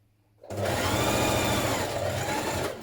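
Sewing machine stitching a dress pocket seam, starting after a brief quiet moment and then running steadily and fairly loud with a fast, even mechanical whir and rapid needle rhythm.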